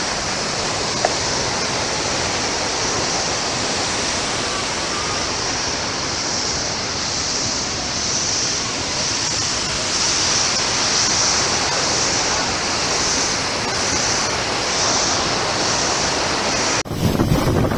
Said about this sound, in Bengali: ও অসাধারণ সেই জং ওয়াটারফলস।